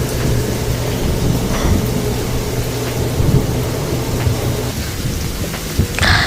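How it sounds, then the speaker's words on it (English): A thunderstorm with steady, loud rain and low rolling rumbles of thunder throughout, a brief sharper crack near the end, with no voices. "Mommy, thunderstorm"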